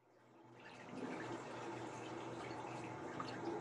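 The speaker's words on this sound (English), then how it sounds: "I can hear your water running" Tap water runs steadily into a sink, a faint continuous rushing and splashing that swells over the first second and then holds steady, with no voices.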